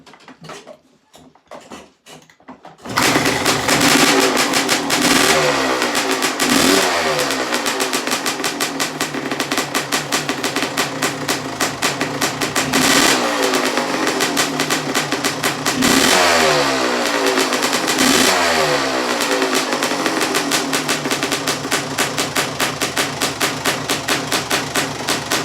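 A 1984 Honda CR250 two-stroke motorcycle engine starts after a few faint sounds, then runs steadily and loudly up close, with a buzzing note and repeated rises in revs. No one speaks over it.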